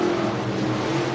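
An IMCA Sportmod race car at Buena Vista Raceway roars close and loud, its engine holding a steady, harsh drone with no break through the brief moment.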